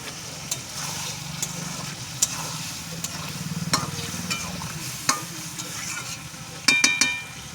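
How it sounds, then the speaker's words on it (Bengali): Spices with ginger and cumin stirred in a kadai for a vegetarian dish, a continuous soft sizzle with scraping stirs and a few sharp clinks of the utensil against the pan, near and alone. "এবার ভালো করে নেড়ে নেব।"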